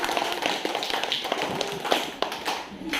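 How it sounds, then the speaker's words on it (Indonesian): Students in a classroom clap for a group that just performed, giving scattered, uneven hand claps and taps from a small gathering at close range, with some shuffling. "tepuk tangan dulu untuk kelompok satu"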